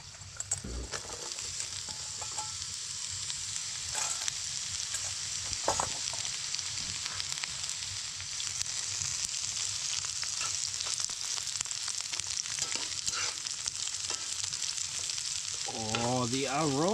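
Mushrooms, onions and potatoes fry in a red-hot cast iron pan on a stove inside a hot tent, a steady broadband sizzle running loud and unbroken throughout, with occasional faint clinks and a brief voice near the end.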